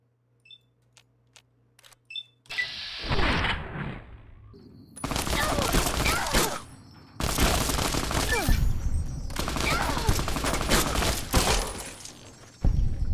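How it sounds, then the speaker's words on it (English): Loud sustained bursts of automatic machine gun fire from skeleton enemies in a video game, three long volleys separated by short pauses, preceded by a few faint clicks and a sharper shot. "Yeah, he had a machine gun. Sounds like that other guy also has one."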